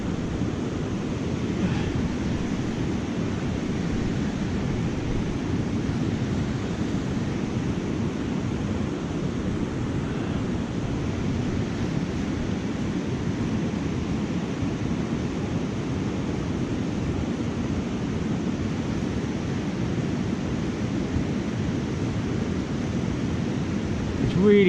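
Foaming, frothing water rushes over a weir on the River Trent, a dense steady roar that fills the whole clip at close range, loud and unbroken.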